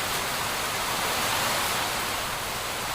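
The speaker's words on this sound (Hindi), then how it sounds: "आज रिकॉर्ड तोड़ बारिश हो गई।" Heavy monsoon rain falling at a house, a dense steady hiss of downpour that stays loud and unbroken throughout, with no voices.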